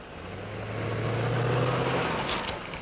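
A car engine rumbles steadily and swells as it pulls away, a low droning hum that builds and then eases, heard alone without voices.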